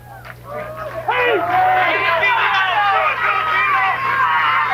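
Crowd at an evening high school football game in the Clearwater, Pinellas area: a dense, continuous babble of many voices, loud and steady throughout, with scattered shouts rising over the murmur.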